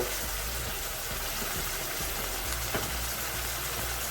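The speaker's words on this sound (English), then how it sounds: "Give this a nice stir." A pan of saltfish pieces for Jamaican ackee and saltfish sizzles with a dense, continuous frying hiss, close and fairly loud, with faint scrapes of stirring mixed in and no voices.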